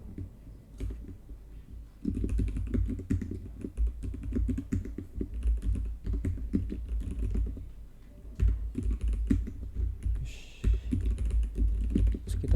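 Rapid clattering keystrokes on a computer keyboard while building a table in Excel, loud and close, with continuous irregular bursts of clicks and no talking.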